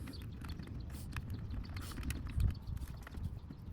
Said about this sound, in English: Remember, use it like a speed wrench.